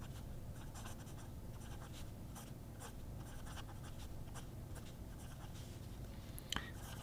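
A fountain pen with a Magna Carta medium steel nib, a fairly rigid nib, scratches softly across paper in quick strokes and light taps, close and quiet, with one sharper tick near the end.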